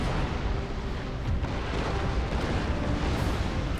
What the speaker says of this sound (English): A wee measly little broadside that I can fire